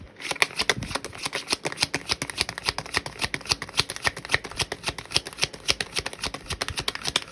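Tarot cards shuffled continuously by hand, a close, crisp run of rapid riffling flutters and soft slaps in steady rhythm, with no talking.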